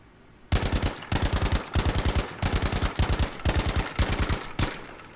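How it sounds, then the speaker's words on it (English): Burst-fire gunshots from a rifle in Battlefield V on a shooting range, eight tight bursts of several rapid, loud, close shots each, evenly spaced with short gaps between them. "This thing is very accurate with burst fire."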